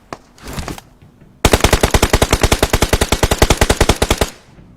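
Automatic weapon fire in the mobile battle royale game PUBG Mobile, a short burst followed by a loud, sustained rapid string of close shots that stops abruptly.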